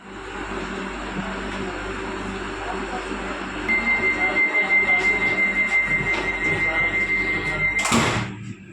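A Vande Bharat Express pulls into Prayagraj station with a steady rumble and a long, high wheel squeal, ending in a burst of sliding-door or brake hiss. A voice is heard in the background.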